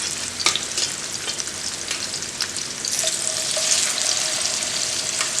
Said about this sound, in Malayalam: അപ്പോൾ മീനൊക്കെ ഞാൻ ഒന്ന് ഫ്രൈ ചെയ്തെടുക്കട്ടെ